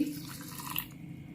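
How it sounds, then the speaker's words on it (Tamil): Water poured from a tap or jug into a mixer-grinder jar holding coconut pieces, a steady close trickle and splash lasting throughout, with no talking. "கொஞ்சம் தண்ணி ஊற்றி"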